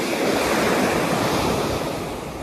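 Ocean surf washes onto a beach during salmon fishing from the shore, a loud continuous rushing roar with some wind, easing slightly toward the end and no voices.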